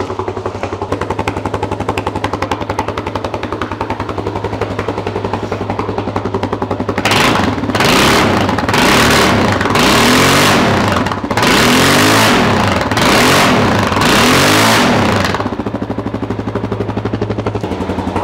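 A Yamaha XT600 2KF motorcycle engine idles steadily and close by, then is revved hard in several loud, rising bursts before settling back to a smooth idle.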